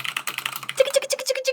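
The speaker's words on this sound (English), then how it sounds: "MX Cherry Browns, they sound like this." Rapid typing on a mechanical keyboard fitted with Cherry MX Brown switches, a close, steady run of soft tactile key taps with no talking.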